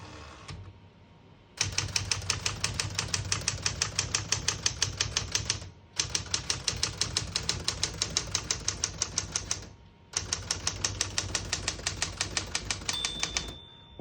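A 1971 Smith-Corona Super-Sterling portable typewriter clacks in steady, rapid keystroke runs, close and crisp, split into three bursts by short pauses, with a bell ding near the end.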